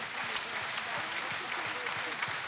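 A wrestling crowd in Orlando applauds, a steady wash of clapping and cheering heard at a distance, with a commentator's voice talking over it.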